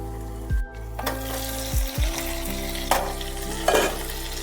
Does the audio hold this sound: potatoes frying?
yes